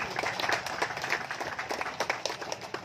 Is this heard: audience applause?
yes